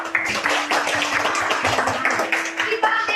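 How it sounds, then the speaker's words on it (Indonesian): Pupils in a fifth-grade classroom clap their hands together, a brief burst of close, uneven clapping with scattered taps. "Coba kita tepuk tangan dulu untuk kita semua."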